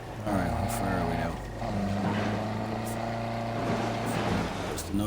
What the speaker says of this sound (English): There's the noise of the car.